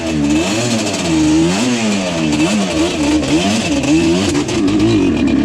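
A Yamaha Banshee two-stroke engine bogs at low RPM, its uneven exhaust note wavering and surging in pitch, sputtering loudly and close with no one talking.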